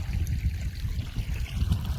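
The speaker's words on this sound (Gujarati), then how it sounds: "મસ્ત મજાનું જો પાણી ચાલે છે" Irrigation water runs gently along a channel in a millet field, a soft continuous trickle and gurgle with low rumbling wind underneath, fairly quiet and without voices.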